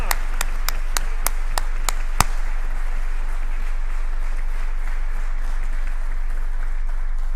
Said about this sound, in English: could I just ask for one more round of applause for Billy Hosking, please